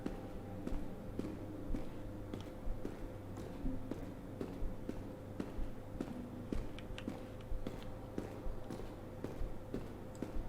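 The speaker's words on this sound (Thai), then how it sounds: "แต่เสียงมันเดินวนอยู่แถวนี้" Footsteps pace around close by inside a church in the horror game Cursed Enigma, a steady run of soft, evenly spaced thuds over a low droning hum.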